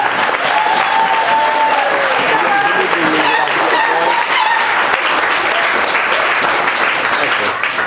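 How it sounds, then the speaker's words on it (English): Sustained applause from a crowd at a community supper held in solidarity with immigrants and refugees, loud and continuous, with voices and a few cheers mixed in. "Please give them a good round of applause for their commitment to society."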